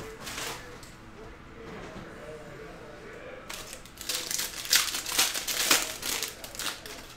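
Panini Prizm football card packs are torn open, bursts of crinkling and ripping foil that grow louder and busier in the second half, heard close up with no voices over them.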